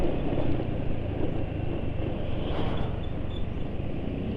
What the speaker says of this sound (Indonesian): suara mesin nggak bisa benar-benar halus